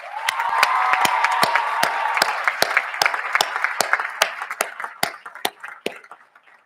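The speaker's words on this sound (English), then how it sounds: "I want us all to give them a huge round of applause" An audience at a school speech day breaks into applause, dense at first and then thinning to scattered individual claps, with a faint sustained tone underneath.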